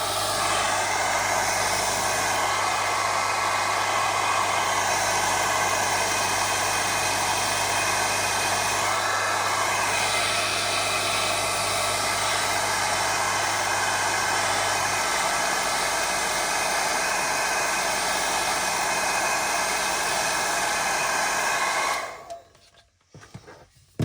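A hairdryer runs continuously at a low fan setting to warm a model decal, a loud steady whooshing whir that holds for over twenty seconds before cutting off abruptly.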